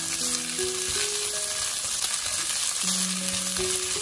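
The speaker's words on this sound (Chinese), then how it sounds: "把剩下来的肉末全部放入锅中，给它翻炒一下，把肉末给它炒熟" Minced meat stir-fried in a little oil in a wok, giving a loud, continuous sizzle that fills the whole stretch, with a steady tone running underneath it.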